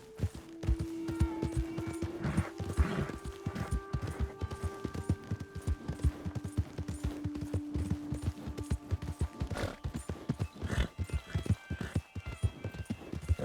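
A horse trots in the video game Red Dead Redemption 2. Its hooves make a rapid, rhythmic clip-clop, fairly quiet, over soft tonal background sounds and a brief whinny.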